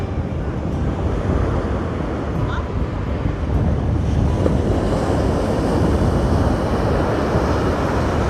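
Rough, violent sea surf along the Kerala coast roars on without a break, heavy with wind buffeting the microphone, while a voice is faintly mixed into the loud wash.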